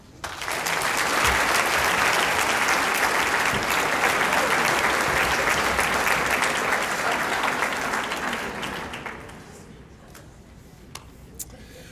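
Banquet audience applauding high school star students, loud dense clapping building quickly and sustained for about eight seconds before tapering off to a few scattered claps and quiet room noise.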